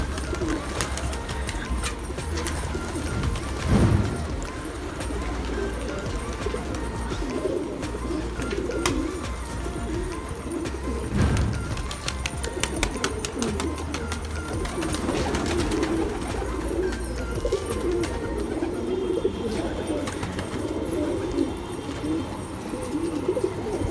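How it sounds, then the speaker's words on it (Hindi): Many pigeons on a rooftop coo in low, rolling calls close by, layered and continuous, with occasional wing flutters and some background talking. "आज हमारा छत भरा हुआ है कबूतरों से।"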